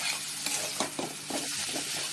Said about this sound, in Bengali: আবার 5 থেকে 7 মিনিট আস্তে আস্তে নাড়াচাড়া করে ভেজে নেব।